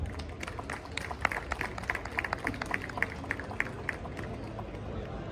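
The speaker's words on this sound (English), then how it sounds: "Let's have a great round of applause for all the exhibitors." Round of applause for exhibitors at a valedictory function, scattered claps rising out of a low hall murmur, fairly faint and distant, with crowd babble underneath.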